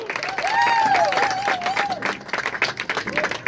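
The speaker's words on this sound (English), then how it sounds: "Let's hear a round of applause for her." An audience applauds a guest host at a Follies show, with steady clapping throughout and a high, wavering cheer or whoop rising above it early on before the clapping continues at full strength.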